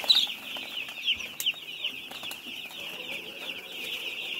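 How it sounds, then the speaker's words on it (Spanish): Constant high chorus of chicks peeping, many overlapping chirps forming a steady shrill wash, with a few louder individual cheeps standing out. "Ahí están los pollitos"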